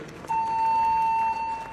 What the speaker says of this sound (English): Somebody set off the alarm.